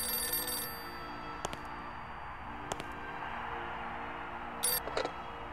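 A telephone in the video game Syberia rings in three short, bright bursts spaced about a second apart, faint over a quiet background hum, with no talking.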